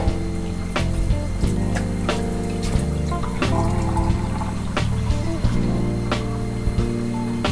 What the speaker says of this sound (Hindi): अब इसमें पानी डाल के 2 से 3 गिलास गलने के लिए रख देंगे।